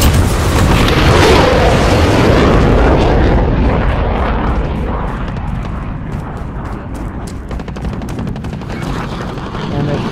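Heavy airstrike explosions roar in a Call of Duty: Modern Warfare battle, a loud dense rumble of blasts and debris rolling continuously, easing slightly toward the end with crackling gunfire-like bursts scattered through.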